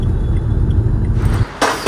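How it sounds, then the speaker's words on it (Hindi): Heavy road traffic in a Delhi traffic jam gives a loud, close, continuous low engine rumble that drops away abruptly near the end, followed by a brief hiss. "ये देखो ट्रैफिक देखो कितना ही जाम है. बहुत ट्रैफिक हो गया दिल्ली में अब, बहुत ज़्यादा"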